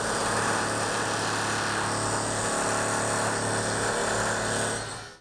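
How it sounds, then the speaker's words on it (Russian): An electric drill runs at a construction site in a neighbouring building, a steady, loud, high-pitched mechanical whine that holds for the whole stretch with no talking, then fades at the very end. "звук дрели и строительная пыль из соседнего здания ничуть не беспокоит"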